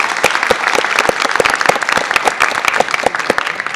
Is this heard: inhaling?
no